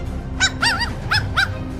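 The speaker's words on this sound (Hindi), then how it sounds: "अगर बकरी का बच्चा कुत्ते की तरह भौंकता है" A dog sound effect gives four short, bright barks or yips in an uneven rhythm, moderately close, over a steady low background hum.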